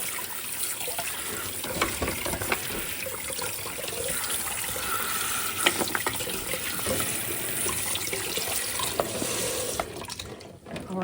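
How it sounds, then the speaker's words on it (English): Frozen great northern beans are rinsed under a running kitchen tap, with a steady close splash of water and light rattling of the beans throughout. "So I'm just rinsing them just a little bit, just in case they have any residue on them."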